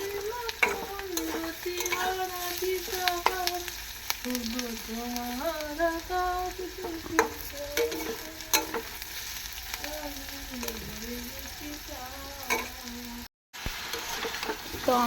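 Potatoes, onion and chilli fry in a pan with a constant crackling sizzle, broken by frequent scraping stirs and clinks of a utensil, close and steady throughout.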